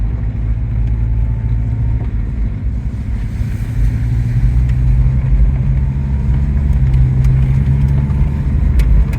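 A 1982 Saab 900 Turbo barn find climbing a hill, its engine droning loud and close from inside the cabin, revs building gradually with a steady low rumble and faint clicks near the end, no talk.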